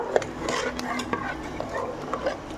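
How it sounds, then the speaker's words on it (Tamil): A spoon stirs fried okra into a curry in a pan, giving a few scraping, clinking strokes over a soft sizzle, close and moderately loud in short bursts. "எல்லாத்தையும் நல்லா கலக்கிக்கலாம்"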